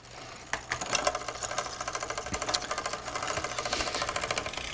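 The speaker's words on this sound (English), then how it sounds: "The chain should jump cleanly in the space of about a quarter to a half turn of the crank arm." Bicycle chain shifting across the rear derailleur cogs while the crank turns, giving rapid, even mechanical ticking and whirring that stays close and moderate in level throughout, with no talk.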